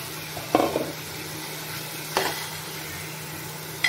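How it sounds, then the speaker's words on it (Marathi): Pieces of kingfish (surmai) tipped into a pot of masala for a spicy fish curry, with a soft continuous sizzle broken by two or three distinct clatters and a steady low hum, close up and without speech. "आता त्यामध्ये आपण टाकूया सुरमईच्या सगळ्या तुकड्या."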